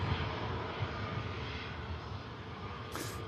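Virgin Atlantic aircraft taxiing at Manchester Airport, a steady distant jet engine roar with a brief louder hiss near the end.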